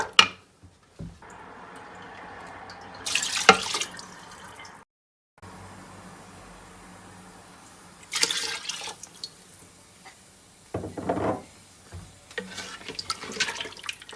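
Water poured into a pot of mutton paya in a home kitchen, several separate bursts of splashing and pouring with quiet pauses between them, close and fairly loud.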